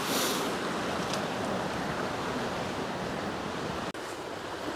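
River water rushing through weirs and channels near Hawkridge in Somerset, a broad steady roar of flowing water, close and constant, with a brief dropout near the end.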